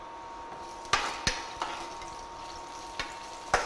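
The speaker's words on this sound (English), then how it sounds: "Okay, so the onion is getting a bit brown." Chopped onion browning in a pan while putu is being cooked, with a soft steady sizzle broken by several sharp clicks and taps of a utensil against the pan.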